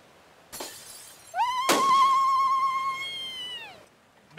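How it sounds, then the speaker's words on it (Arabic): A plate smashed during a comedy sketch gives a sharp, loud crash of breaking crockery, followed by a long, wavering tonal cry that rings over the noise before fading. "هاتي هاتي اكسري لك صحن"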